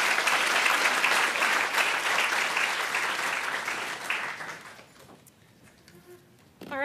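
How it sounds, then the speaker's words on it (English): Audience at a NASA Earth science mission preview applauds the expert speakers, dense clapping that holds steady, then fades out over the last couple of seconds into a quiet room. "Please, a big round of applause for our experts from OCO2."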